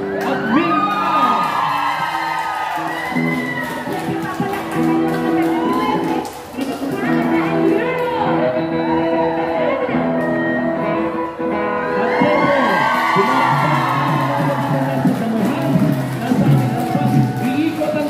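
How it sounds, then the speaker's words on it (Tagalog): A large crowd in bleachers at an anniversary gathering claps and cheers, with whoops and shouts rising together, loud and sustained under a speaking voice. "Pumalakpak ang mga nasa bleachers."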